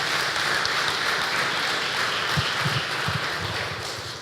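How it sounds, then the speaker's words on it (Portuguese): A church congregation applauds two people, a dense, even wash of clapping that holds steady and tapers slightly at the end. "vamos aplaudir esses dois"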